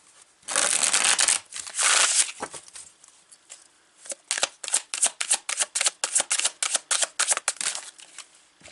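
Tarot cards are shuffled by hand, close and fairly quiet: two dense riffling bursts, then a quick series of crisp, evenly spaced flicks.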